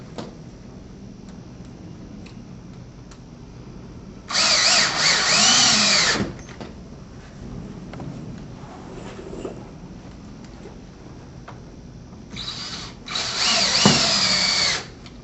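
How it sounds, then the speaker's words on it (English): Power drill driving bugle head screws into pre-drilled holes while installing Deco panels with T-posts, two loud whirring bursts, the first about two seconds long and the second shorter, separated by quieter handling noise. "we can continue to install the remainder of the bugle head screws into"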